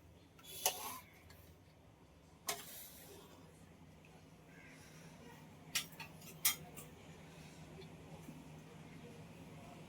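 Bangda (mackerel) fry and tangy, spicy bangda curry are served onto a plate, with a few sharp, scattered clinks of a utensil against the plate over a quiet room.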